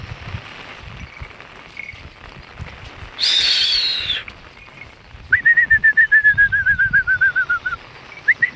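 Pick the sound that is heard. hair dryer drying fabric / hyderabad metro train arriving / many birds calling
many birds calling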